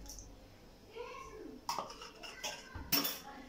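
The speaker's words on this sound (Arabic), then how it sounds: "غادي نحرك معايا الخليط مزيان كيف ما كتشوفوا" Spoon clinks and scrapes against a bowl while a chilled lemon dessert mixture is stirred, with a few sharper knocks and low kitchen background between them.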